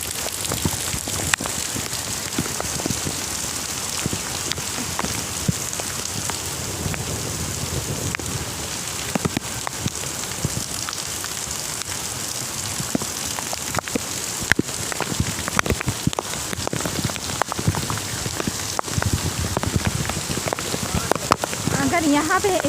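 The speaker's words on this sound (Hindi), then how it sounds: "जितनी तेज़ हवा है उतनी तेज़ बारिश भी है यहाँ पे।" Heavy rain pours down in strong gusting wind during Cyclone Yaas in Odisha, a dense, steady roar of water with scattered sharp patters and rattles throughout.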